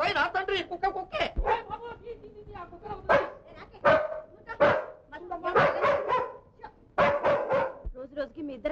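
A dog barks and yips repeatedly in short bursts, close by, mixed with people talking in a home setting.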